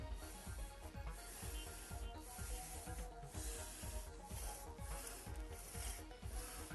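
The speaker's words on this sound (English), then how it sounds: "slowly but carefully, smoothly and fluidly, start to move the bow" A bow drill spins on a wooden fire kit, producing a rhythmic back-and-forth wooden rubbing and rasping that repeats about twice a second, close and fairly quiet, with no voices.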